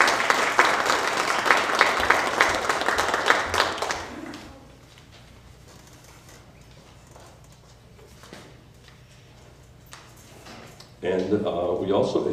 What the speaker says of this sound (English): We want to give her a nice round of applause.